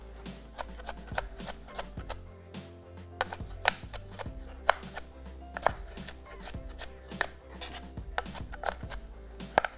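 A knife roughly chops thick onion slices on a board, giving a string of sharp, irregular close knocks of varying loudness over about ten seconds, with no voices.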